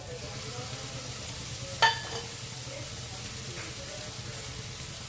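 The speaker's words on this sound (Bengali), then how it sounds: "হাফ চামচের মতো সর্ষের তেল দিয়ে দিলাম। দিয়ে আদা রসুনটা ভালোভাবে ভেজে নিচ্ছি" Ginger garlic paste fries in mustard oil with onions in a pan for a spiced brinjal dish, giving a faint, steady low sizzle with one brief utensil clink partway through.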